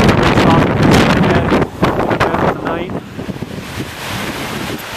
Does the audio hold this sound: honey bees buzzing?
no